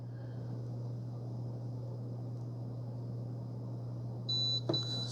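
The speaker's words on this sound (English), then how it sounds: "So 2 beeps, sound is on." Two short, high electronic beeps from an Instant Pot Vortex Plus 6-quart air fryer near the end, over a steady low appliance hum.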